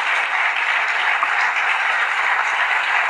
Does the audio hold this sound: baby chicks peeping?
no